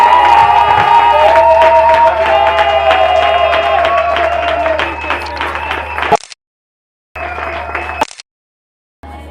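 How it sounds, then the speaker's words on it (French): Church congregation cheering and applauding at an anniversary celebration service, a loud dense wash of clapping and shouting voices for about six seconds, then cutting out into silence with brief bursts of crowd noise. "J'aimerais que nous puissions donner une bonne acclamation à notre Dieu ce matin"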